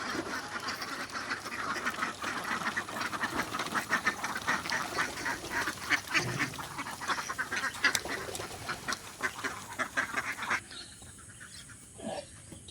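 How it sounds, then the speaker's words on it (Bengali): A flock of about sixty-five domestic ducks quacking continuously on a pond, close by, their overlapping calls busy and chattering before tapering off near the end. "পঁয়ষট্টিটা হাঁস রয়েছে এখানে পুকুরের ওপরে"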